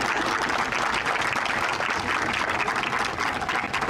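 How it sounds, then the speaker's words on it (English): Dense, sustained applause from a crowd at a press conference marking the USA Softball Hall of Fame Complex becoming Devon Park, continuous and fairly loud with no talk over it. "And your applause"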